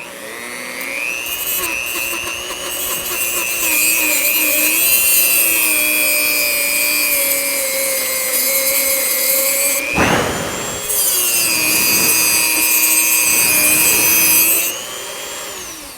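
A rotary tool cuts through a power steering cooler return hose on a GM OBS Chevy truck, a loud steady high whine with shifting pitch, briefly dropping out near the middle before resuming and cutting off near the end.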